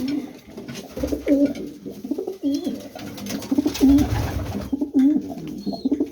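Several pigeons coo repeatedly in a loft, with close, loud, overlapping rolling calls rising and falling in an irregular rhythm over soft background rustle.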